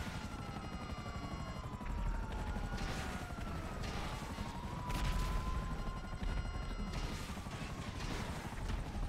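Gunfire in GTA V at an airport, dense continuous rattling shots under a steady whirring rotor-like drone, with occasional louder bursts, loud and close.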